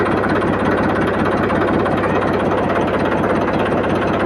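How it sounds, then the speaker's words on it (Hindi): A Massey Ferguson 1035 DI tractor's diesel engine runs with the PTO engaged, a close, steady rumble of rapid, even knocking pulses with no voices. "तो हमने ट्रैक्टर को भी स्टार्ट कर लिया और अभी हम पीटीओ गियर को क्लच दबाकर एंगेज करेंगे"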